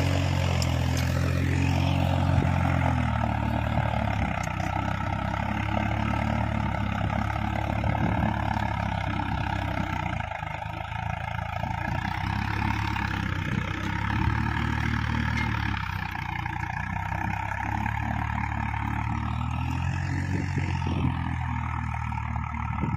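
A Swaraj 960 tractor running at 1800 RPM while pulling a three-bottom plow, its engine giving a continuous low, droning roar that stays steady throughout, heard at moderate distance without talking.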